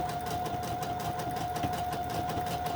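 A sewing machine stitching fabric and lace snippets down into a roll, a steady fast mechanical whir with a constant motor tone, close and continuous without pauses.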